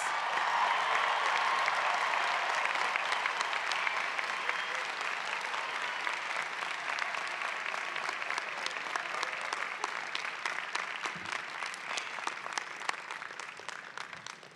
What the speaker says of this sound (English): let's give Tanya Henderson Gatlin, our student speaker, another round of applause